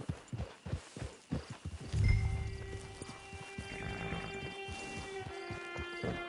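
Horse hooves clip-clop at a walking pace in the Red Dead Redemption 2 online game, with a short neigh partway through and a soft musical drone beneath the steady steps.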